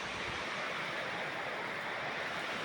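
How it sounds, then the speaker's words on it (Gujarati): A village river rushes past in a steady, continuous broadband flow, with no voices, its even roar unchanged throughout. "અમારી ગામની નદી"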